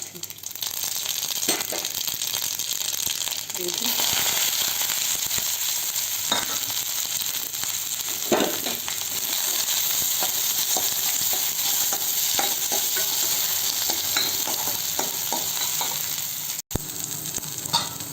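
Mustard seeds, curry leaves, chana dal and onion crackle and sizzle in hot oil for a village-style tempering, a continuous close frying hiss broken by small pops and stirring clatter, with a voice speaking at times.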